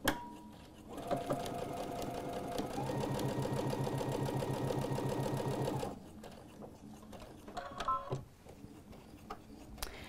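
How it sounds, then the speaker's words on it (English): A sewing machine runs steadily for about five seconds, stitching a quilt seam just over a quarter inch from the edge. It gives a fast, even mechanical whir and clatter, stops, and is followed by brief handling clicks and a short restart. "I'm going to take it to the sewing machine and stitch those same, in the same manner, just a little bit more than 1/4 of an inch from the edge."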